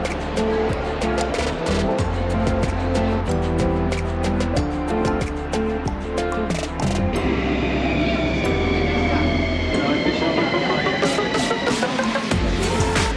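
A Bucharest metro train rumbles along steadily with loud, continuous wheel and motor noise, and a rising whine near the end as it changes speed.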